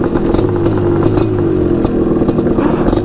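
A 250cc two-stroke quad's engine running hard nearby, a loud continuous buzzing drone with shifting pitch and mechanical clatter as it pulls through gears, with no speech.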